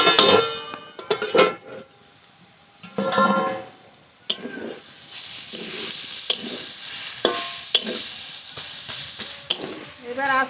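Freshly picked mustard greens cook in a pan while a spatula turns them, producing repeated scraping and clinking strokes over a soft hiss; a voice talks at intervals, mostly early on.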